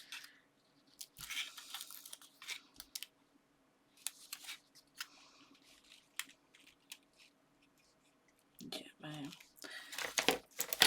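Scissors trimming the corner of card stock while making a cute Christmas card, several short crisp snips and paper crinkles scattered through, close by, with quiet background hum and a louder burst of rustling near the end.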